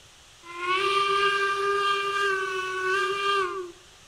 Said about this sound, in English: That's a weird whistle.